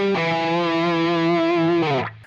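Distorted electric guitar plays a short solo phrase, holding one bright sustained note with vibrato before stepping down with palm-muted notes near the end, close and loud with no voices.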